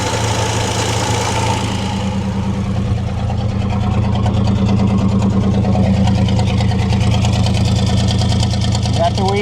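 A 1963 GMC V6 truck engine, sitting for over 30 years, runs with a loud weed-burner exhaust, a steady rough idle with rhythmic knocking throughout and no speech over it.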